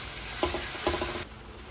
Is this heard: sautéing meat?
yes